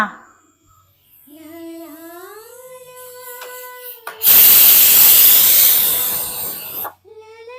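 Pressure cooker on a home kitchen stove, a loud steady burst of whistling steam lasting a few seconds, preceded by a quieter rising tonal hum.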